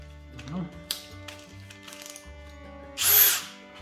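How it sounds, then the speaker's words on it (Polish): A power drill bores a hole in wood for a mason bee house, with a whirring motor hum in short bursts and one louder grinding burst near the end. "Stosuję troszkę większej średnicy wiertła niż użyłem do nawiercenia otworu do wkrętów."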